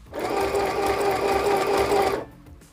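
A cheap AliExpress sewing machine sews a zigzag stitch in one steady, whirring burst of about two seconds, close and clear, starting and stopping abruptly.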